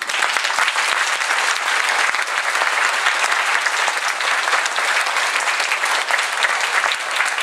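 A lecture audience applauds a biomimicry speaker, steady dense clapping from many hands that fills the room at an even, loud level without a break.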